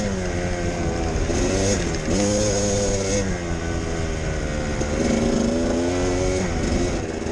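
Kawasaki KDX200 two-stroke dirt bike cruising through open desert at an easy pace, its engine droning loud and steady with rising and falling revs throughout.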